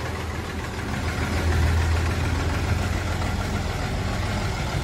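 A 1990 HMT 3511 tractor's diesel engine idles nearby with a steady low rumble and rapid knocking pulse, holding an even level throughout without talk.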